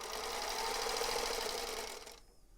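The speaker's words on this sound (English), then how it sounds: "we can get this sewn together with our scant quarter of inch" A sewing machine stitches a scant quarter-inch seam in a quick, even whirring run, close and fairly quiet, stopping just before the end.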